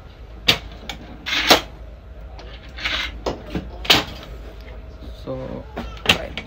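A fittings drawer in a logging equipment workshop is pulled open, a series of sharp metallic clacks and sliding rattles close by, with a short voice-like tone near the end.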